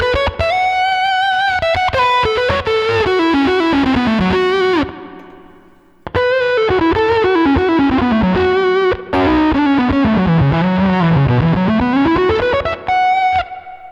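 Fuzz-driven electric guitar through a Line 6 Helix into a Timmy pedal, cranked-amp style, playing thick sustained melodic lines with sliding bends, a brief drop near five seconds, then continuing loud and saturated with chorus-like shimmer.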